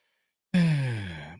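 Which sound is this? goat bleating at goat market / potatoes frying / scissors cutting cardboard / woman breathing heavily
woman breathing heavily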